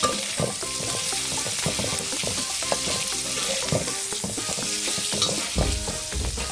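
Pork belly frying in a thick sauce while being stirred continuously, a loud close sizzle with repeated scraping strokes of the utensil against the pan, under a music bed.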